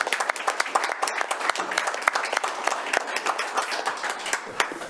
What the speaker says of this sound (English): Council, you're welcome to clap now.